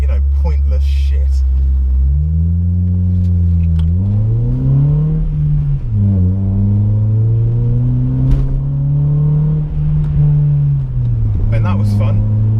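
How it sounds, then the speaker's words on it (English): A modified car revving hard as it accelerates up a road, its engine note rising and dropping through gear changes, loud and close throughout. "And all I was doing was accelerating up a road."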